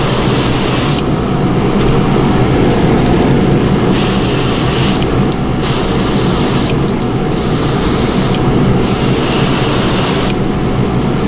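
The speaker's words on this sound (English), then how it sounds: "make sure you're proficient enough with the airbrush to know exactly where to start and where to stop" An airbrush sprays paint onto crappie fishing lures in production quantity, giving a steady loud hiss that cuts in and out in short bursts, with no talking.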